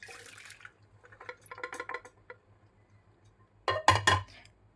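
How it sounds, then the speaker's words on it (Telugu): Water is drained off boiled chana dal in a kitchen. There are short bursts of pouring and splashing, light clinks of a vessel, and a louder slosh near the end, set over a faint repeating low hum. "వాటర్ అయితే వంపేసుకుందాము."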